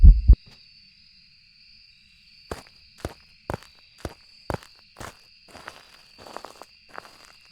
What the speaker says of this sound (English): my heartbeat sounded real loud there